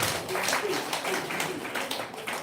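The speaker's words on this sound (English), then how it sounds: "let us give them a round of applause" Audience at a high school anniversary debate event breaking into a round of applause, a dense wash of clapping that holds steady for the whole stretch with voices mixed in.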